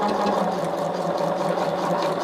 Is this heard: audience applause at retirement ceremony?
no